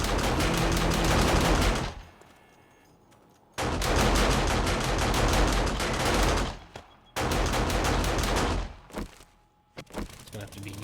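Automated turrets in the zombie survival game 7 Days to Die blast rapid bursts of gunfire, loud dense volleys in three long stretches broken by short pauses, with scattered shots near the end.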